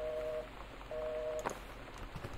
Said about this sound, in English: The signal's out on the phone